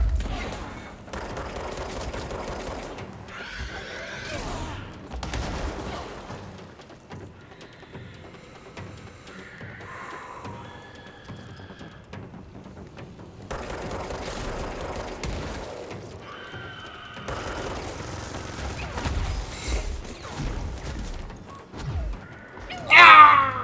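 Sniper fire in the video game Control, a scattered barrage of loud gunshot bursts and crashes through a busy in-game battle, with brief talk over it.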